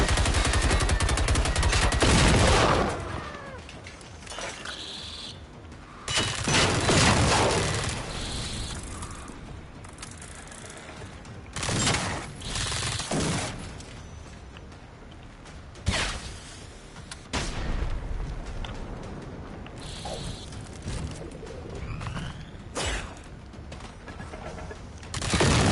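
Inward-facing turrets in a video game fire repeated bursts of loud gunfire, with several heavy volleys separated by quieter stretches and dense rattling in between.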